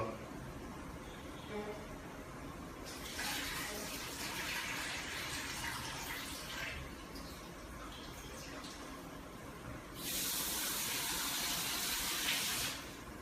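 Leafy vegetables for Edikaikong stew are washed under a running tap, with water gushing and splashing in bursts over a steady background, while people talk nearby.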